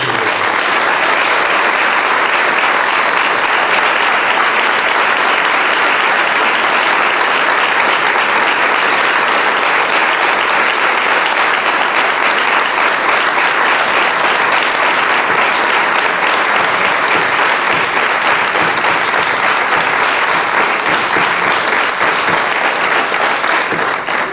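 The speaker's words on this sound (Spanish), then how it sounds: "yo quiero un aplauso de su pueblo para Antonio Aguilar" Townspeople in Puerto Serrano give a long, loud, sustained ovation for Antonio Aguilar, a priest being named favourite son. Dense, unbroken clapping fills the room for over twenty seconds with no talk over it.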